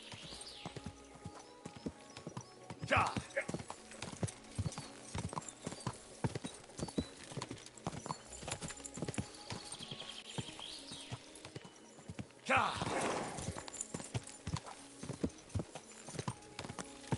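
Horse hooves clip-clop steadily along in the medieval video game Kingdom Come: Deliverance 2, a continuous rhythmic stream of hoofbeats with a couple of louder bursts of movement, fairly faint and without talk.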